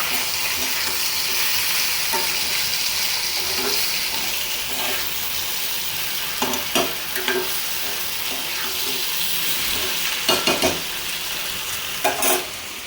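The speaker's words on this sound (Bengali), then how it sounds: "একটু পাঁচফোড়ন বাগার দিয়ে নিছি" Panch phoron spices tempering in hot oil in a home kitchen, a steady loud sizzle with intermittent stirring scrapes and a few sharper bursts toward the end, with no talk.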